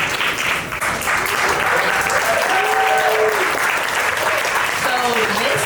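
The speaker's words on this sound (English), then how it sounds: "give them a round of applause" An audience at the Boston Marathon adaptive brunch panel applauds, a loud, sustained spread of clapping with scattered whoops and voices mixed in.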